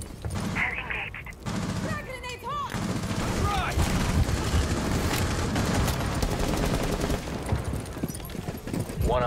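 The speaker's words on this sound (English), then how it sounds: "I just shot somebody through the floor and killed him" Rapid bursts of gunfire from Rainbow Six Siege fill the stretch, loud and close, with some volleys fired through a floor, dense and continuous over a busy game soundscape with brief electronic chirps.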